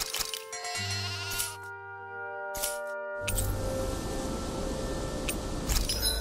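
Sheep bleat on a ranch in the Tales of Arise video game, a few clear, close bleats rising over steady game music and soft chimes, with no talking.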